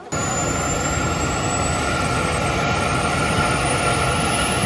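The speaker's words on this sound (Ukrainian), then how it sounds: "І прилетів навіть вертольот." A helicopter arrives over a local festival in Switzerland, a loud, steady rotor and engine roar with a high whine that holds unbroken throughout, close by, with no talking.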